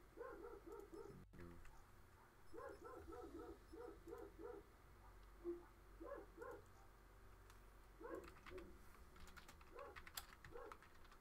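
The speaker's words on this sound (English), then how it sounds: "dogs are barking." Dogs barking in short bursts of several barks, with pauses between volleys, moderately distant and fairly faint against a steady low background hum.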